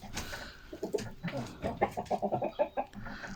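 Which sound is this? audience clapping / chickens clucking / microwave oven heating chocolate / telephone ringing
chickens clucking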